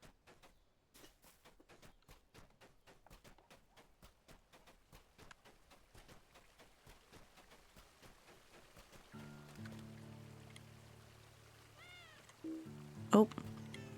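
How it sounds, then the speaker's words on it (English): A cat meows near the end amid a fantasy game scene, following a long run of steady rhythmic ticking or footstep-like clicks and a droning musical tone. "There's a cat."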